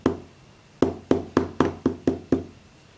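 Knocking in a wrong pattern on an Arduino secret-knock solenoid door lock: eight sharp, close knocks, one alone and then seven in a quick, fairly even run, with no talk.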